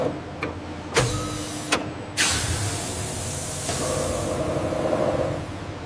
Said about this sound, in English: Watermelon pulp enters the dicing machine